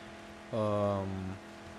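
Car engine revving up in the Mad Max video game after an upgrade, a steady harmonic roar rising abruptly, holding for under a second, then dropping back to a low background hum.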